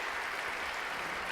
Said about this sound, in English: The cheering is very interesting.